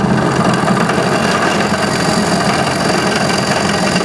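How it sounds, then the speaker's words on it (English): A pillar drill bores into material, giving a loud, steady whir and grind that holds without a break from start to finish. No one speaks. "always introduce the drill bit very gently, no matter what material you're drilling"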